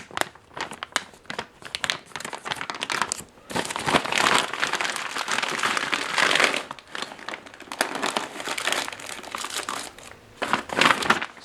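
Plastic packaging of a Russian MRE ration pack (IRP-BS) crinkles and crackles steadily as its zipper closure is pulled open, with bursts of loud rustling and short pauses, close up and with no talk.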